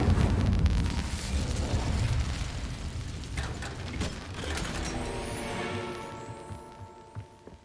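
A fire spell is cast in the video game Hogwarts Legacy: a loud rumbling whoosh of flame that bursts out, then crackles and fades with metallic ringing tones over several seconds.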